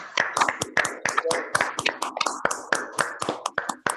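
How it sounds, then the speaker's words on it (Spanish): A small gathering claps for the heroes of the Malvinas, sparse uneven handclaps close by in a loose rhythm, with voices mixed in. "aplauso, por favor"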